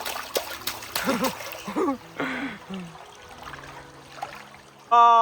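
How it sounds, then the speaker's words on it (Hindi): Water splashes in bursts as someone bathes in a river, with several sharp slaps and trickles close by in the first two seconds, quieter sloshing after, and voices and a brief tonal sound breaking in around it. "आज तो ये नदी से जाने का नाम ही नहीं लेगा, पूरा नहाएगा लगता है ना।"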